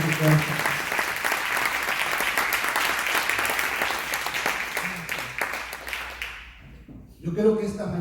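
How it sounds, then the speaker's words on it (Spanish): Church congregation at an Easter Sunday service applauding loudly, dense many-handed clapping sustained for about six seconds before fading out, with a voice speaking at the end. "Si quieres un aplauso al Señor, hazlo con todo el corazón,"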